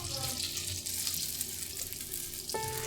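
Small pieces of donut dough fry in hot oil with a steady, fairly quiet sizzle and bubbling, and a brief clink near the end.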